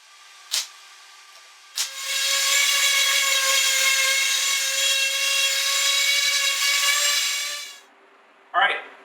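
A power sander working walnut and maple boards for a changing table, a steady high whine lasting several seconds, framed by a few sharp knocks before and after.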